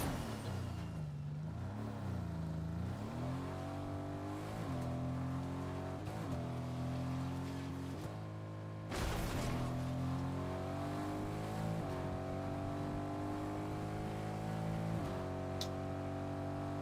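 A car engine in a video game hums and shifts pitch steadily throughout, with a brief surge midway; no talking, steady loud level.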